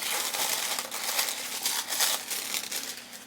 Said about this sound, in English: Let's tear open that sticker.